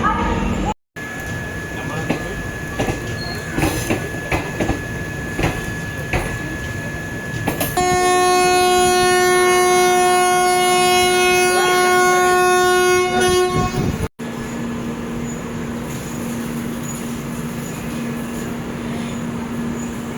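Ambience at Tiruchirappalli Junction with rumbling and voices, then the Tiruchirappalli–Jodhpur Humsafar Express sounds a long, loud multi-tone horn for several seconds before the bustle continues.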